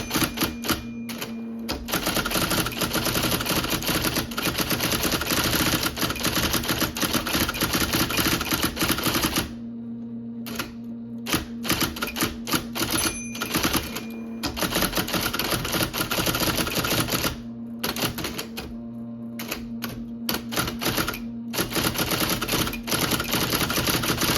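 An IBM Selectric II electric typewriter types rapid bursts of sharp, rhythmic clacks over its constant motor hum, heard up close, with brief pauses between runs of keystrokes.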